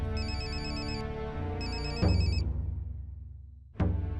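A phone rings late at night with an electronic ringtone, two chiming bursts followed by sharp percussive hits over a low, sustained dramatic music bed.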